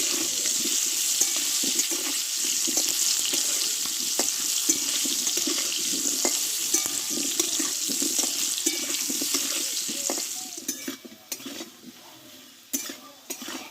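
Thick-cut potatoes fry in oil with salt for a spicy banana flower curry, giving a steady close sizzle with faint stirring scrapes throughout and a few clinks near the end.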